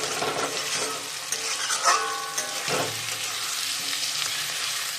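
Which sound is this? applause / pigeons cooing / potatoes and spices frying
potatoes and spices frying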